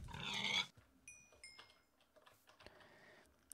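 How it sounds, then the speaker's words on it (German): A pig in Minecraft gives a single soft grunting snort at the start, followed by faint clicking and tapping in a quiet background. "Auf jeden Fall sind hier Schweinchen."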